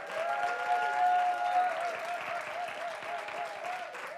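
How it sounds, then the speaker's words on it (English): An audience applauds the MC and host at a welcome event, a steady round of clapping, moderately close, with a brief tonal sound early on. "How about a round of applause for our amazing MC and host, Rick Piña."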